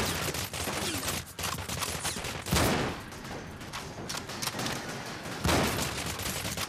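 A sniper rifle in the video game Cryostasis fires amid dense crackling gunfire, with two loud, booming blasts standing out from the rapid background of shots.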